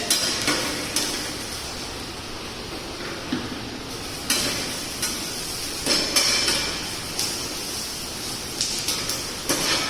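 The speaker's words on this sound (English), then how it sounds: "Again you just stir it. After stirring, your onion is getting more caramelizing." Onions being stirred and sautéed as they caramelize for Lyonnaise potatoes, a continuous close sizzle with repeated knocks and scrapes of a spoon against the pan every second or so.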